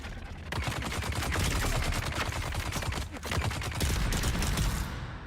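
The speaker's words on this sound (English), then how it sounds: "I love this pistol so much." Rapid pistol fire in a video game, dense volleys of sharp shots crackling continuously and loudly for several seconds, with no talking over them.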